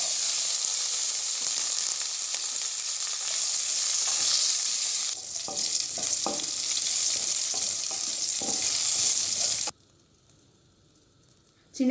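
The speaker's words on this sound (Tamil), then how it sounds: "சின்ன வெங்காயம் நல்லா வதங்கிடுச்சு." Small shallots sautéing in oil for hotel-style tiffin sambar, a loud continuous sizzle with occasional stirring knocks that cuts off abruptly near the end.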